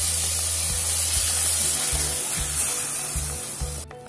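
Two medium tomatoes go into a hot pan of cooked ginger, chili and garlic paste, giving a loud, steady close sizzle with a few faint utensil knocks, fading slightly near the end.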